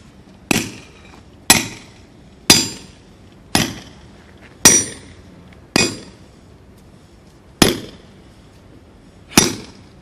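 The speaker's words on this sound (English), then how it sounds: "we start by hammering the steel rods in the ground" Steel rods hammered into the ground for an aluminum tent installation: eight sharp, loud metallic strikes at a steady pace of about one per second, each with a short ringing decay.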